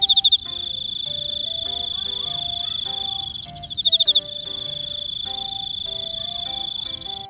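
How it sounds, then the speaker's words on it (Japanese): Emma field crickets, large Japanese crickets about 35 mm long, chirp steadily at night in a frog-filled spot, a high continuous trill with a brief pulsed burst at the start and again midway, while frogs or other insects call lower down. "エンマコオロギは体長35ミリになる日本最大級のコオロギです。"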